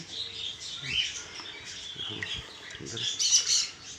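Pet birds chirp and tweet in steady, busy bursts around feeding time, close and fairly loud, with a few squawks rising toward the end.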